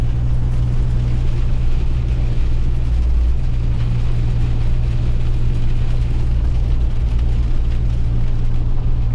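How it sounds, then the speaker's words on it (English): Heavy pouring rain before sunrise, heard from inside a car on a morning drive, makes a steady dense wash over a constant low engine and road rumble, with no voices. "Dumping down buckets of rain right now."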